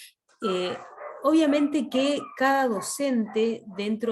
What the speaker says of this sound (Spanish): perdonen los perros